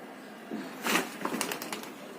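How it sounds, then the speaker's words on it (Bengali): Pigeons perch on a heavily laden jujube branch near their loft, with a burst of wing flapping in the middle followed by a string of short, close flutters and soft calls. "কবুতরগুলো খুবই সভ্য, সারাদিন এই ডালেই বসে থাকে"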